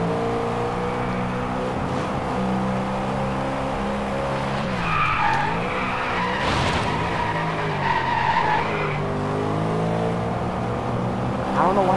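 Tires spin and skid through a tandem drift in the DRIVECLUB racing game, with a steady engine drone and rising squeals. A voice talks over the sliding cars throughout.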